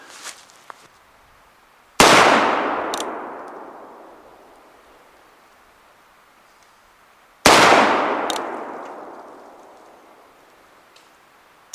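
Two loud, sharp shots from a Ruger Old Army revolver ring out about five seconds apart, each a close crack followed by a long fading echo, with quiet between them.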